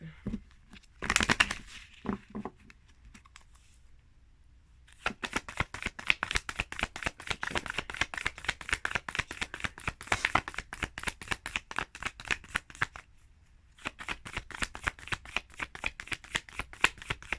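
Cards are riffled and shuffled repeatedly up close, rapid crisp flutters in long bursts separated by brief pauses.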